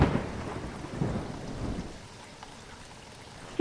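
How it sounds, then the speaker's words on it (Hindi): Heavy cartoon rain pours steadily with rumbling thunder, loud at first and then easing to a softer patter before a sudden sharp burst at the end. "बाहर बारिश थी कि रुकने का नाम ही नहीं ले रही थी"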